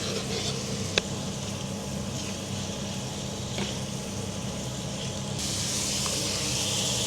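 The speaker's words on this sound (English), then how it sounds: "I fried beef and next I'm adding onion." Steady, loud sizzle as onion is added to fried beef in a hot pan, a continuous hiss with a brief sharp clink near the start and the sizzle growing slightly brighter toward the end.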